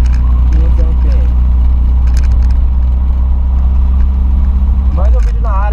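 A car engine is held at a steady, high 4,500 RPM, a loud and constant drone with a slight waver that dips near the end, all very close with no talking.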